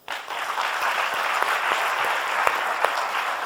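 A studio audience on a television talk show bursts into applause, starting abruptly and holding a dense, even clatter of clapping, close and moderately loud, with a few sharper claps standing out.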